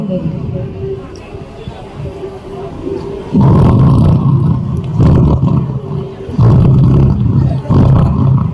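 Someone imitates snoring with three long, loud, rumbling snorts spaced a couple of seconds apart, after a stretch of background chatter.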